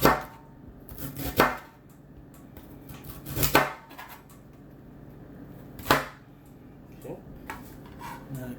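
Celery is cut into 1-inch pieces on a board for chicken noodle soup, a few sharp knife thunks spaced a second or two apart, near and clear over quiet kitchen background.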